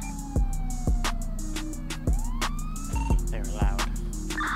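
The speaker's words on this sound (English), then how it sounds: "You wanna turn your sirens off?" A police siren wails over a musical game soundtrack, its rising and falling tone sweeping across the clip, fairly close and steady.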